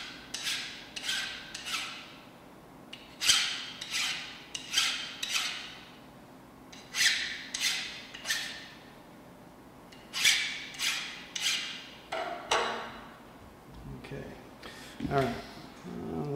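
A hand file takes the burr off a metal workpiece at a Bridgeport milling machine, giving about a dozen rhythmic rasping strokes close up, grouped in quick bursts with short pauses between.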